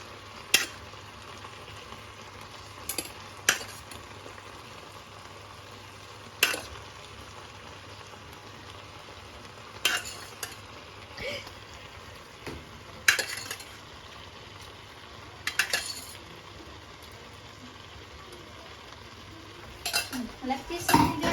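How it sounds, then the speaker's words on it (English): A utensil stirs macaroni and noodles in a pan, giving scattered clinks and scrapes against the metal over a quiet background, with a brief soft voice. "We stir together the macaroni and the noodles."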